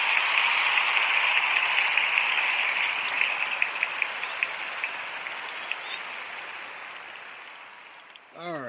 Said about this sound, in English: That deserves some claps for all you mothers.